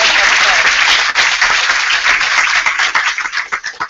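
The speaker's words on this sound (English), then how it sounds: "So definitely a round of applause for our elected officials." Loud, sustained crowd applause for elected officials at a youth civic engagement summit, dense clapping from the room that thins out toward the end, with faint voices underneath.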